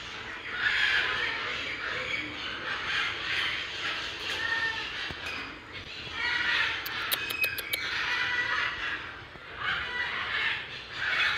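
Loud, overlapping harsh squawks and caws from a crowd of birds in Trinidad, continuous and raucous, with a brief burst of sharper calls partway through.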